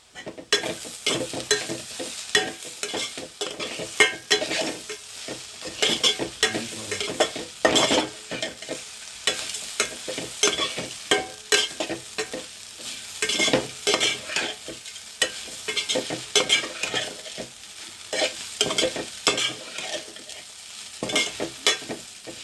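Food frying in a pan is stirred and mixed continuously, with a steady sizzle under repeated scraping and clattering strokes of a utensil, close and fairly loud.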